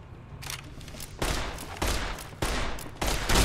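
Gunfire in Fallout New Vegas: a string of loud, close single shots, about five heavy blasts spaced roughly half a second to a second apart, each with a booming tail and no talk over them.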